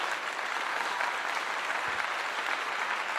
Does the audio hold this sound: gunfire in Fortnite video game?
no